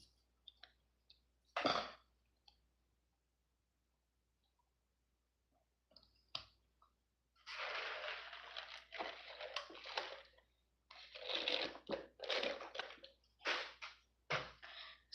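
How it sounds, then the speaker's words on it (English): Crunchy food chewed close to the mic, with sporadic clicks early on, then bursts of loud wet crunching and munching. "It's hard to chew and swallow,"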